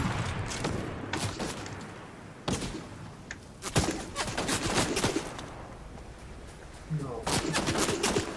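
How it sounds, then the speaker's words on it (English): Gunfire in a video game, with sharp shots and bursts from two shooters scattered through the scene, some near and loud, over a busy background with voices and game sound. "Yes, I hear the shooting"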